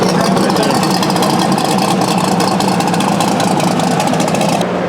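A rebuilt car engine with a separate converter runs at a steady idle, a loud, continuous rumble with a fine rhythmic ticking throughout, close by and never changing pace.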